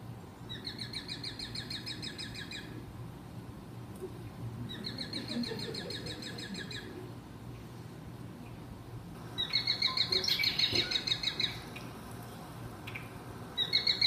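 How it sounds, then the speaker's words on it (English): Recorded red-winged blackbird calls play in repeated bursts of bright trilling song, with three separate phrases over a steady low outdoor hum, the last one louder and nearer. "And then red-winged blackbirds."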